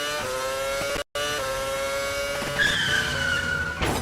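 A T50S Niki Lauda edition supercar in Roblox Driving Empire oversteers through a turn, its engine droning steadily under a long tire skid that squeals loudly and rises in pitch, with one brief dropout early on.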